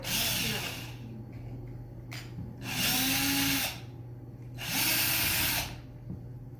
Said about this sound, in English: we'll take a drill, Missy, and we'll put right in the top